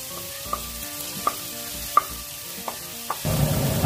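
Onion frying in oil with ginger and garlic, opening with a low sizzle and a series of sharp metallic taps at steady intervals, then a louder burst of sizzling near the end.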